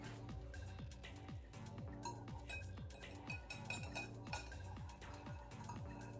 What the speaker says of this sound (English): And then give it a nice whisk.